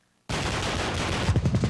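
Heavy explosive blasts and rapid gunfire recorded for large-scale Transformers battle scenes burst in loudly after a brief silence, a dense continuous roar with choppy, pulsing bursts toward the end.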